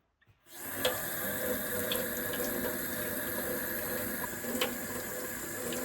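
Hot water from a wood-fired water heater tap gushes steadily after a sudden start, a close, continuous splashing stream with a couple of small knocks.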